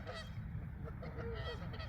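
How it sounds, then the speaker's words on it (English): Geese honk repeatedly by a creek, a run of moderately distant honks over a steady background of water and outdoor ambience, with no talking. "since those geese came down here fighting in the water"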